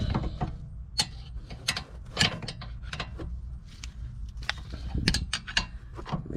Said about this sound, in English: pop your bolt back in, and we're going to go ahead and tighten them both back up